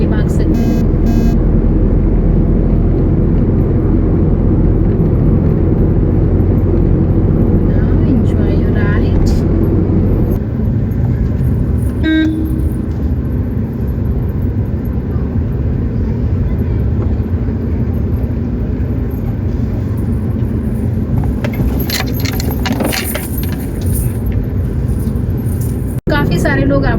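A car cruising in fifth gear along a smooth highway gives a steady, loud engine and road drone throughout, with a person talking over it.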